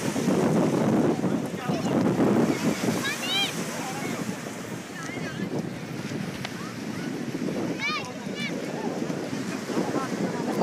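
Strong wind and rough waves at sea on the Bay of Bengal produce a constant loud rushing roar with heavy wind buffeting on the microphone, and faint high whistling tones drift through now and then.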